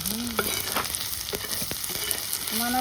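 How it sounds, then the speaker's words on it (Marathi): Onions sautéing and being stirred in a pan over a good flame, with spices and salt added, making a steady sizzle with scraping stir strokes and small clinks throughout. "हे असं कांद्यात सगळं परतून घ्यायचं ना."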